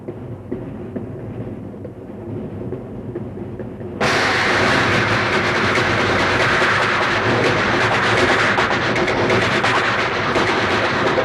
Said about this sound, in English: we listen to the wheels as they click along there